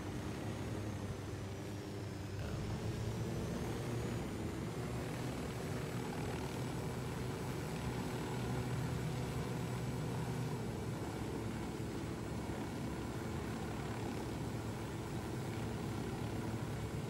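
A helicopter flying in the video game Ghost Recon Wildlands, a steady continuous rotor and engine drone that holds at an even, moderate level throughout with no talk over it.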